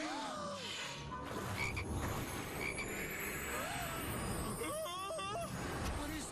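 Frogs croak in repeated rising calls against a steady background hum of traffic, with a voice talking over parts of it.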